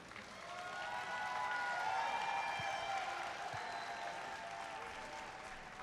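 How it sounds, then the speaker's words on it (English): A large crowd at a robotics competition venue gives the judges sustained applause, a dense even wash of clapping that swells and holds for several seconds, heard from a distance. "Give them a huge round of applause."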